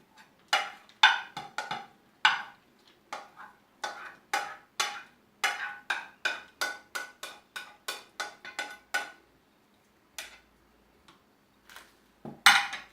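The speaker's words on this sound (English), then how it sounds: "So I'm going to put all my veggie in the bowl here." Chopped onion and carrot pieces tipped into a bowl for fried wonton filling, a rapid run of close, crisp clattering taps and scrapes, irregular at first, then steady before trailing off, with a final louder clatter.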